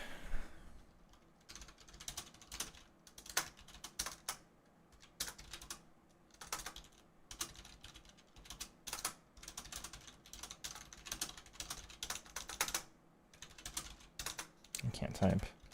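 Rapid, uneven keyboard typing on a computer keyboard, loud and close, with bursts of clicky keystrokes across the clip and brief pauses between runs.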